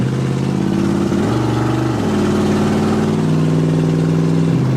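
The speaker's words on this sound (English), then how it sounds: "I'm driving most of a 67 Mustang" A 1967 Ford Mustang's engine drones steadily from inside the car on the highway, loud and close, its pitch dipping and climbing with brief throttle changes over a constant road rumble.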